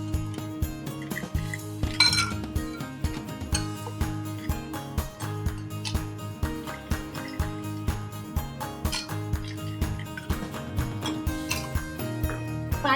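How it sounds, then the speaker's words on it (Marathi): Ice cubes drop into glasses of raw mango mint sharbat, making a run of sharp, irregular clinks and knocks up close, repeated throughout without any talking. "आणि हे बर्फ टाकते याच्यामध्ये."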